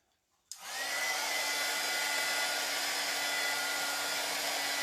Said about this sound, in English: I'm just using a heat gun